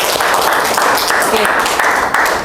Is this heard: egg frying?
no